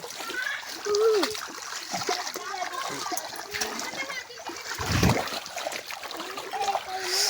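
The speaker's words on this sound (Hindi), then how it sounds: "ओहो की तंडा पानी" Water splashes and trickles as people wade or bathe in cold water outdoors in a village, with a bigger splash near the end and voices, including a child's, talking throughout.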